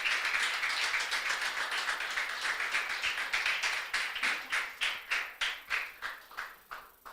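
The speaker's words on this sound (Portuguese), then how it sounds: "Saudamos o Senhor com as palmas," Church congregation clapping hands in unison during a Lord's Supper service, a dense steady clatter that settles into a slower, distinct rhythmic beat toward the end, close and loud with no talking.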